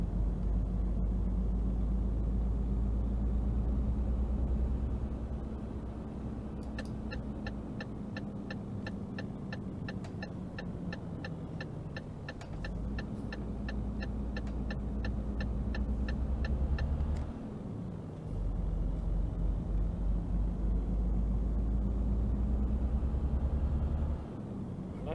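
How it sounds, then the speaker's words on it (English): A heavy truck engine in Euro Truck Simulator, hauling logs, drones and rumbles steadily, dipping briefly twice before resuming its low, continuous throb. "The sound of this truck, it's the first truck that sounds like a real truck."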